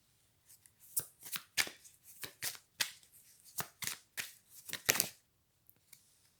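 Oracle cards being shuffled up close, a quick run of papery riffling bursts and soft slaps in an uneven rhythm that fades into silence at the end, with no talking.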